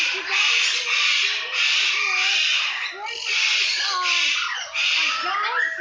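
A large white bird kept as a pet squawks loudly and close by, letting out a run of harsh, grating calls in several bursts with short pauses between them.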